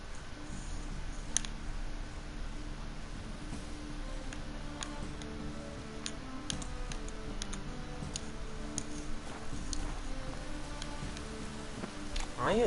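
Soft, steady patter of rain in the video game The Witcher 3: Wild Hunt, with scattered ticks and drips, quiet and continuous, no voices.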